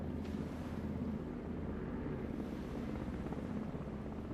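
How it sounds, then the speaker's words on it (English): A steady low rumble of a helicopter in the video game Hide & Hold Out, continuous and fairly distant, with no talking over it. "So we got helicopters in the game."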